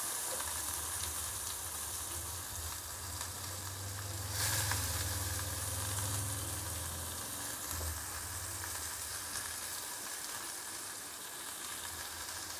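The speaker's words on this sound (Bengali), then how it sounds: "পেঁয়াজটাকেও আমি লাল লাল করে" Two chopped onions sizzling over a medium gas flame in a pan, a steady dense hiss that swells briefly midway, with a low rumble beneath and no voices.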